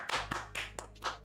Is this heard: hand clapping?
yes